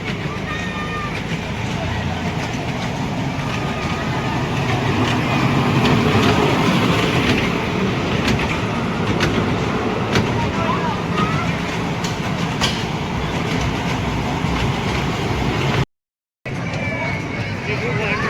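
A crowded passenger train rumbles steadily along the rails, a constant clatter and roar throughout, with voices murmuring faintly in the background.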